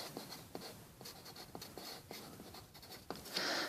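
A pen or pencil handwrites a decimal number on paper for a math review, with short scratchy strokes and small taps heard close up, faint and alone.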